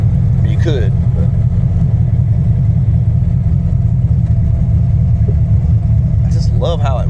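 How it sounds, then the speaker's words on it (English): Engine fitted with ACES Killshot fuel injection settling back to a steady idle, a loud continuous low rumble throughout, with brief voices over it. "I just love how it returns to idle"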